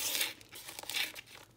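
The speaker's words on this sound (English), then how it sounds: "So I'm just going to cut part of the way down." Scissors or a blade cut partway down sheet material for a large fabric storage pouch, giving close, crisp crinkling and tearing rustles in a few short bursts with no talk.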